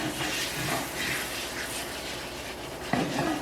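A stiff brush scrubs a wet cast iron pan in a home kitchen, giving a steady, close, rasping swish in repeated strokes with a sharper clatter near the end, no talking over it.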